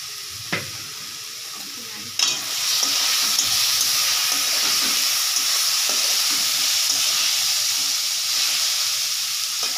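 Onions fry in a hot pan for a rohu fish curry at home, with a sudden strong sizzle bursting in after a couple of clinks and then hissing steadily and loudly, broken by the scrape of stirring.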